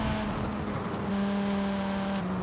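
A five-cylinder car engine in Forza Horizon 5 holds a steady droning hum with a sustained tone that shifts pitch slightly midway, continuous and fairly even in loudness, with no talking.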